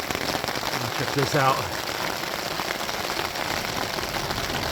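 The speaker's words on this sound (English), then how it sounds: "it's really starting to come down a little heavier now. Still not bad, but definitely more rain than we had a few minutes ago." Heavier rain falls steadily at a campsite by the Gilman Tunnels, a dense, close hiss of drops hitting surfaces that continues without a break while someone speaks briefly over it.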